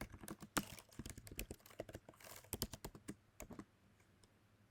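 Quick, irregular clacking of keys on a computer keyboard as code is written for a competitive programming problem, close and fairly quiet, in short bursts with brief pauses and no voice.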